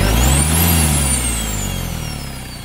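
A Mitsubishi 4D56 diesel engine runs steadily with a loud low rumble while a thin high turbo whistle rises and then slowly falls, with no talking.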